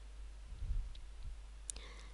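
A computer mouse clicks while a text color is changed in the Joomla article editor, a few faint, quick clicks over a quiet background.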